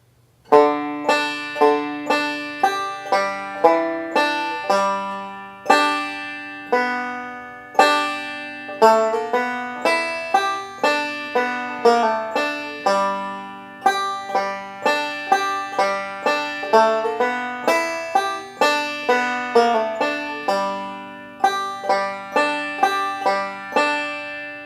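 Banjo picking the first phrase of Long Journey Home, a fast steady stream of bright plucked notes in rolling patterns, close and alone for about twenty-five seconds.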